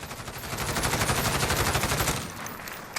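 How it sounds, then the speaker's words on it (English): FAMAE Mini-SAF rifle hip fire in Call of Duty: Modern Warfare, a single loud, continuous burst of rapid automatic shots lasting about two seconds before dropping to a faint tail. "that is the hip fire, not controlling it with our 5 milliwatt laser"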